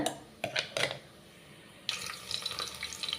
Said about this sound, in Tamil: இப்போ வந்து கொஞ்சமாக தண்ணி ஊற்றிட்டு மிக்சி சாரில் வந்து அரைச்சிக்கலாங்க